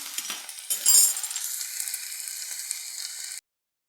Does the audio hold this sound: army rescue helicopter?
no